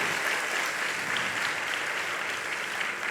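Dense, steady applause from an audience at a Jain religious discourse gathering fills the whole stretch, a continuous wash of many hands clapping at even loudness with no voices standing out.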